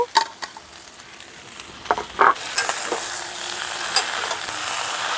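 Pre-fried bitter gourd and eggplant tipped into a pan of sizzling ginger and vegetables for shukto. A few scrapes and clinks come first, then a sudden louder sizzle as the pieces land, settling into steady frying hiss with occasional stirring knocks.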